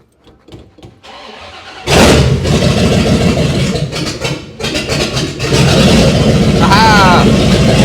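A rebuilt El Camino engine, now fitted in a 1950 Fargo truck, cranks and fires after quiet shuffling, then settles into a loud, steady run close by with a brief dip and rise in revs; voices are heard over it.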